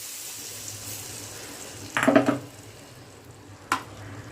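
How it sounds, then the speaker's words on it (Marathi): Red chilli powder tempering hits hot oil for a besan dish, giving a brief burst of sizzling near the middle, close but fairly soft, then a short clink later, with no talking. "अशी फोडणी द्यायची आहे."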